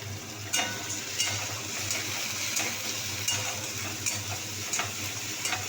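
Ginger garlic paste fries in a pan with a constant close hiss and sizzle, punctuated every second or so by soft scrapes of stirring.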